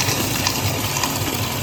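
Sanitizer water gushes steadily into a Taylor soft serve machine while it is being primed, a loud continuous pouring rush heard close up with no voices.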